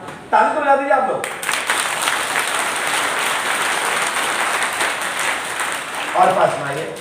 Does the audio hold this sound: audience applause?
yes